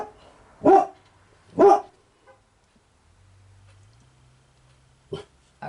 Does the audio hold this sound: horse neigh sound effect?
no